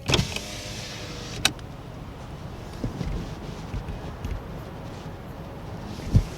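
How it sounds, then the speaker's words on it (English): A car's power window rolls down with a steady motor whir through a heavily mirror-tinted side window, joined by faint road and wind noise and a few small clunks, no voices. "I'm gonna roll this window down."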